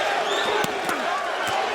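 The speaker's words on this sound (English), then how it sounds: "Crowd trying to rally" Crowd noise from a boxing arena during a 168-pound bout, a dense continuous roar with a few sharp claps or thumps, heard beneath a commentator's voice.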